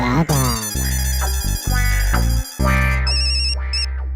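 A melodic phone ringtone plays loud and close while a call goes out to a wood seller, repeating tone patterns with short gaps.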